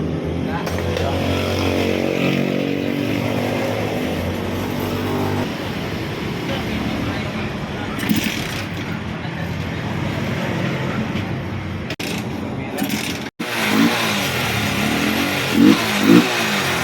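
A Honda NS150 motorcycle engine with low power runs and revs up and down for a long stretch after a spark plug swap, with brief clatters and bumps near the end.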